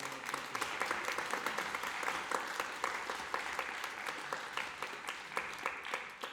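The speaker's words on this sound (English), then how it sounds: "Can we give them a round of applause?" Audience applause fills a college jazz ensemble's spring concert, a steady, dense wash of many hands clapping continuously throughout, fairly close and with no talk over it.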